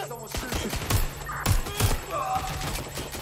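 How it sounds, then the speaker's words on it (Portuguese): Several sharp gunshots ring out in the video game Watch Dogs Legion, roughly three distinct bangs in quick succession over steady game music and ambience. "Atirei na cabeça, maneiro"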